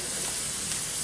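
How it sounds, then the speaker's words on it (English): Coconut oil sprayed over the tops of raw kale chips before baking, a steady, close hiss lasting about a second with no speech over it. "So now all I'm going to do to get these chips in the oven is spray the tops with a little bit of the"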